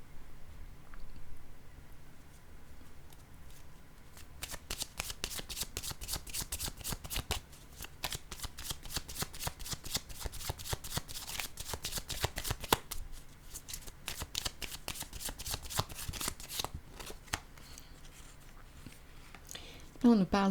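A deck of cards being shuffled in a long run of rapid riffling clicks, close and clear, with brief pauses and a quieter gap before the shuffling resumes.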